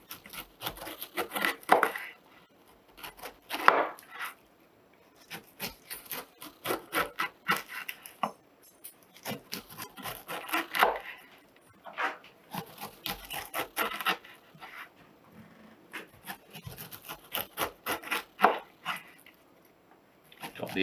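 A knife scrapes and rasps along a whole pineapple, cutting strips of skin away in a run of repeated strokes with short pauses between them, close and fairly quiet, with no voices.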